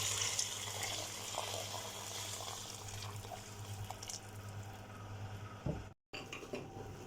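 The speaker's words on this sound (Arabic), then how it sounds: "هسه حبايبي حمسناه كل زين، راح نخلي الماء." Water pours into a pot of fried chicken for Iraqi chicken maqluba, a soft continuous splashing stream heard close over low kitchen hum, briefly cut by a momentary dropout near the end.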